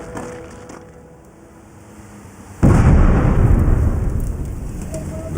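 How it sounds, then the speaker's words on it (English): An explosion booms outside a military camp in Afghanistan. It arrives as one sudden loud blast, and a long rumbling roar fills the air afterward, with no voices over it. "There's been an explosion outside the camp, close enough to concern the garrison and the medics."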